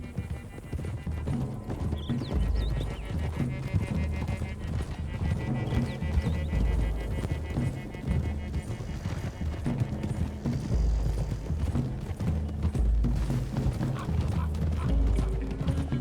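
Horses trot along a road in the video game Red Dead Redemption 2, with a steady, busy clip-clop of several hooves and an occasional whinny under a dense bed of game ambience.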